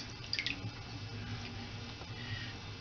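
Liquid dye poured onto wet fabric soaked in soda ash solution for low water immersion dyeing, with faint drips and soft splashes up close at low volume.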